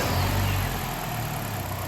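A BMW car with a Valvetronic engine starts up after a motor replacement, a loud low engine rumble that settles into a steady idle.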